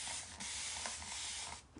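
Liquid is sprayed onto a dirty silk screen used with chalk paste, making a close, steady hiss in two bursts separated by a short break.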